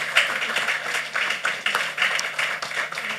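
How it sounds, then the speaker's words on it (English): An audience at a book chat during the Ake Festival 2025 claps steadily for about three seconds, a dense patter of many hands at a moderate level, with no talking. "Round of applause, please."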